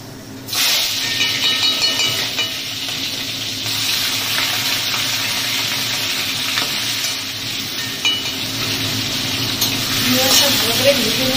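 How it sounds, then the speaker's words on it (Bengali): Prawns are salted and fried in a hot wok of mustard oil mixed with white oil. After a sudden loud start, a close, steady sizzle hisses on with occasional stirring scrapes, and a voice talks over it. "নুন দিয়ে চিংড়ি মাছটাকে ভালো করে ভাজবো"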